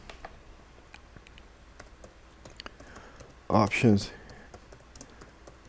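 Soft, scattered keyboard clicks tap on a computer keyboard, a quiet irregular run of keystrokes, briefly interrupted by someone speaking a word mid-way.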